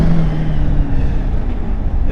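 Supercharged 2016 BMW F85 X5M engine, rebuilt to 702 hp, runs with a steady loud rumble and droning low tones that rise slightly, close and continuous with no talk.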